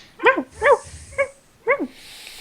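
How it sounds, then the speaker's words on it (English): A dog in the Pathfinder role-playing game barks at a little cat: four sharp, close barks in an uneven rhythm, with the last two near together. "The dog barking at the little cat"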